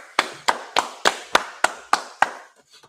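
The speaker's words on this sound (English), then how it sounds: "go ahead, clap it up" A congregation at a Feast of Unleavened Bread gathering claps in unison, eight sharp, evenly spaced claps at a steady rhythm, then a brief quiet tail.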